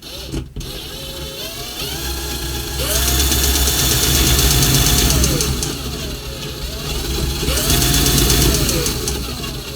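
A cordless drill spins a magneto's magnets, producing a steady motor whine whose pitch rises and falls as the drill speeds up and slows, with a louder high-speed stretch in the middle and another toward the end.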